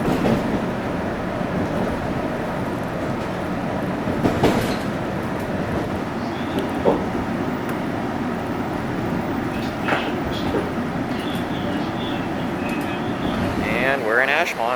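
A Boston Red Line subway train running toward Ashmont, a continuous rumbling roar with rail clatter and brief squeals, heard from inside the car with faint voices underneath.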